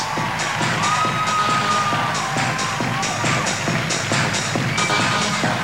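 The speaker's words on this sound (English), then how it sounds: "Let's give them a nice round of applause." A pageant audience gives the Miss Universe 2000 preliminary delegates sustained applause and cheering, a dense wash of clapping and crowd noise with whoops rising through it and a faint voice briefly mixed in.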